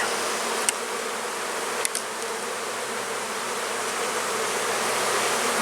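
Honeybees drone loudly and steadily during a hive frame inspection, a dense, continuous buzz with a few faint knocks or clicks from handling the frames, and no talking.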